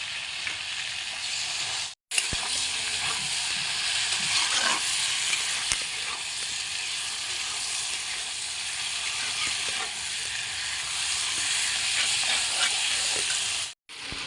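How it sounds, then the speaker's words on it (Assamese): Meat frying in a pan with ginger-garlic paste, cumin, coriander and spices gives a steady, close sizzle and hiss with occasional light stirring clicks, broken by two brief silent gaps. "মাংসখিনি ভাজা হ'ল"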